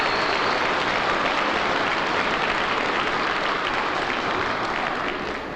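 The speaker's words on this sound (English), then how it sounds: "Why are the people clapping?" An audience claps after a child finishes telling the Goldilocks story, a loud, even wash of applause that holds steady throughout.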